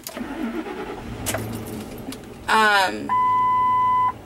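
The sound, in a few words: truck engine starting up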